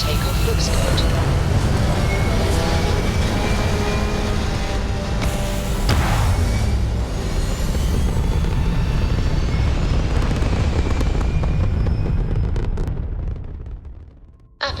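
Steady, loud roaring rumble of a spaceship taking off in Starfield, sustained thrust filling the clip with a swelling burst near the middle before the roar fades out abruptly at the end, with a voice speaking under the noise.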